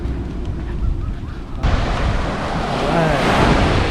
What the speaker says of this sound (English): Ooh, the waves.